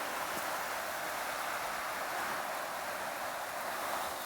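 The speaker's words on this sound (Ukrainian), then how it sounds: "Ось таким розсіювачем він дуже тоненький, маленька капля." A garden sprinkler fitted with a fine diffuser sprays cold water in tiny droplets over a vegetable plot outdoors, making a constant soft, hissing spray with no pauses or speech.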